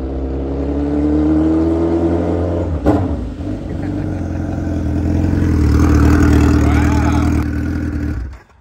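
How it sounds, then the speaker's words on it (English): Loud, close engine roar of a stretched big-tire Hayabusa street bike during a rolling burnout, revving up and holding high with a sharp burst partway through, then cutting off at the end. "You gonna do a rolling burnout?"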